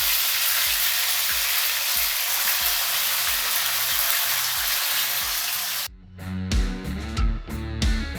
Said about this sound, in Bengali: ফোড়নের জন্য গোটা জিরে দিয়ে নেব, 2টো তেজপাতা দিয়ে নেব।